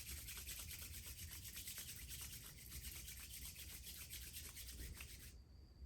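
Hands rubbing together, a close, steady, dry swishing friction sound that continues without pause and stops abruptly at the end.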